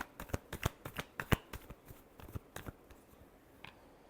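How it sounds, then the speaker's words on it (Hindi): Tarot cards being shuffled by hand, a quick run of crisp riffling snaps and flutters up close, fading after a few seconds. "Last shuffle."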